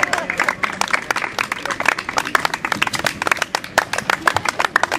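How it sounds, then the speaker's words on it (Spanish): A small crowd at a neighborhood commemoration in Villa Olímpica claps in distinct, uneven bursts. The individual hand claps are close and clear, and light chatter can be heard in the background. "Un aplauso."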